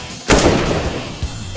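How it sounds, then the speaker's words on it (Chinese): A single loud, booming gunshot close by, with a long rumbling decay and a smaller thump after it. "他一枪打在一个男生腿上"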